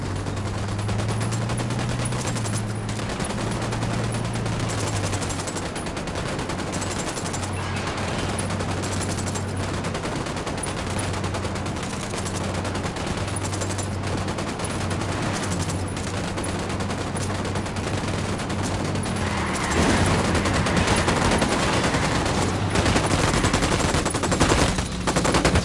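Sustained rapid gunfire from a squad in the video game Ghost Recon Wildlands, dense overlapping automatic bursts and shots filling the whole stretch at steady high loudness, growing slightly heavier near the end.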